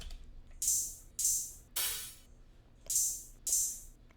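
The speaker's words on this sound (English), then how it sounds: "So I'm gonna play both the open hats together real quick." Two open hi-hat patterns in an FL Studio beat play together, five bright sizzling hits in an uneven call-and-response rhythm with gaps between them, alone and fairly faint.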